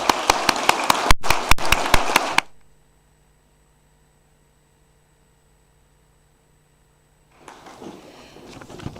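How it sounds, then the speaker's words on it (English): An audience claps at a junior prize giving, dense and loud for about two seconds before fading into near silence, then softer scattered clapping resumes toward the end. "a round of applause for these people"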